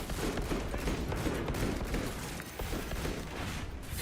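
Dense, rapid gunfire fills a Space Marine 2 battle, with overlapping bursts and shots rattling continuously at close range alongside game effects.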